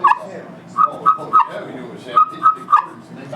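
A turkey call imitates a young hen's kee whistle: about seven short, high, snappy notes in two close bursts, with no yelps.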